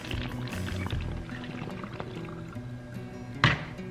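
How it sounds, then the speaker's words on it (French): White vinegar is poured through a funnel into a bottle, a soft, close gurgling trickle that runs for a few seconds before a sharp knock near the end. "Je veux une demi-tasse de vinaigre blanc. Je l'ai ici. Je prends une demi-tasse. Je verse dans la bouteille."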